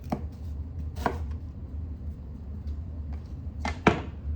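A knife chops onion on a cutting board in a handful of sharp, close knocks, irregularly spaced with quiet gaps between them.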